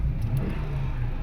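A 2005 Honda Civic with a reverse-gear fault rolls forward, its engine giving a steady, close, low rumble throughout with no voices.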